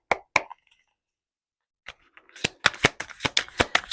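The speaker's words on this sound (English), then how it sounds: "let me go ahead and get your first 4 cards out" Tarot cards are dealt from a deck in close, dry taps and snaps, a few separate flicks followed by a fast rapid run of riffling card clicks.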